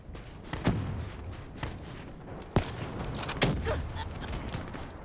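Gunfire in the video game Black Ops 3, a dense stream of rapid shots and sharp cracks with a few louder bursts standing out throughout.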